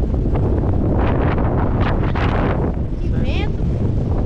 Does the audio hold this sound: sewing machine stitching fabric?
no